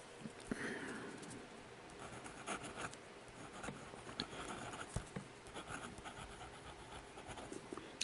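Cross Century fountain pen nib scratching across paper in soft, quiet strokes, a faint irregular patter of writing sounds close to the listener with no talking.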